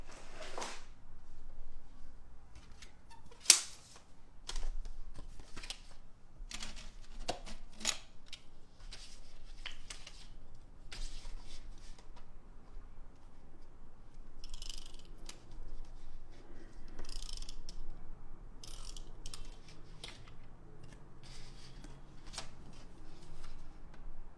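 Scissors trimming planner paper for a November planner setup, making a series of short, crisp snips and shuffling paper sounds at close range, with no talking.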